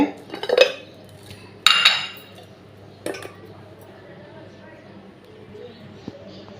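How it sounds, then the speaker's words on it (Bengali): Tea being poured and strained into cups in a home kitchen in Bangladesh, heard as a few sharp clinks of cups and utensils against quiet background sound, with two louder bursts near the start and softer taps later. "এখন আমি চাগুলো ঢেলে ছেঁকে রাখবো"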